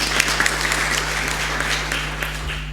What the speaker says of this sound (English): I do believe that this award deserves a round of applause.